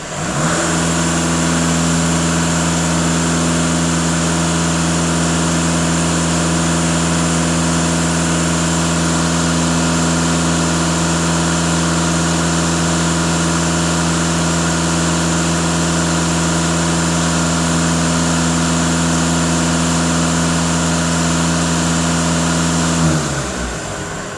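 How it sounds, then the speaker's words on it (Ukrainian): A warmed-up VW Golf 2.0 TDI diesel engine is held at a steady 2500 rpm, a loud, unbroken droning hum that stays constant for over twenty seconds before easing off at the end. "Автомобіль прогрітий, можна газувати. На холостих 0, перевіряю датчик диференційного, даю 2500 обертів."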